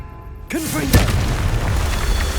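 Confringo explosive curse spell from Hogwarts Legacy: a short swooping whoosh, then one loud booming blast that leaves a dense, rumbling roar hanging afterward, close and heavy, with no voices over it.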